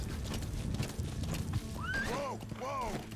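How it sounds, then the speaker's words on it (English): Game horse in Metal Gear Solid V thundering along at a gallop with heavy hoofbeats, then letting out two shrill whinnies close by near the end. "Horse goes dummy fast."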